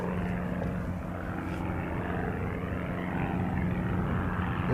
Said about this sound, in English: Here's the DC-3.